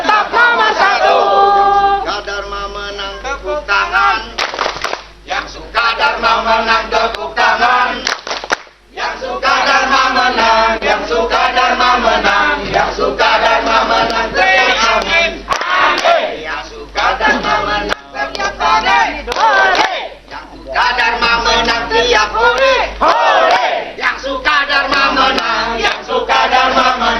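A loud crowd at a local mayoral election debate in Cilegon, Banten chants and cheers rhythmically in bursts, with brief pauses between waves of shouting, close and energetic throughout.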